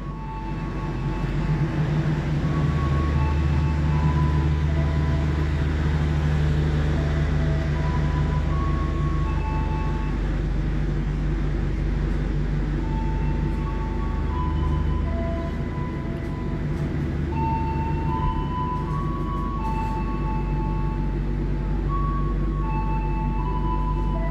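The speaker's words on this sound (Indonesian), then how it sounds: "Dilangsir mundur ya kereta apinya." The Taksaka train is shunted backwards at Yogyakarta station, giving a continuous low rumble of diesel engine and rolling wagons, steady and fairly loud throughout with no talking.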